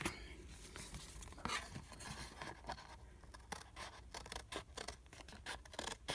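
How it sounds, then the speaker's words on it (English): Scissors snip through paper for a craft journal clip, a run of crisp cutting strokes that speed up into quick, close snips toward the end, with no talking. "now I'm going to cut it out"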